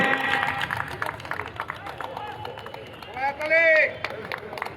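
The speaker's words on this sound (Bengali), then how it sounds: "জোরে করতালি দিন" An audience at a prize-giving ceremony held with police support claps in scattered bursts, crowd murmur underneath, while a voice speaks over a loudspeaker and a rising electronic tone sounds briefly.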